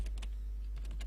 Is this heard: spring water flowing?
no